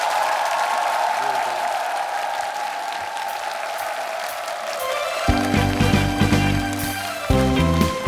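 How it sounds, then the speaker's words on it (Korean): An audience on a Korean TV singing show breaks into sustained, loud applause, the clapping swelling over a blend of crowd noise as a trot-style musical intro with a steady beat kicks in underneath. "여러분 큰 박수 부탁드리겠습니다"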